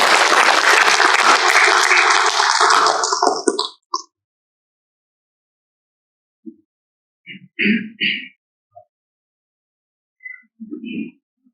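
An audience claps for a keynote speaker at a Data & AI Talks event in Raipur: dense, loud applause for under four seconds, then near silence broken by a few soft, scattered bumps and handling sounds.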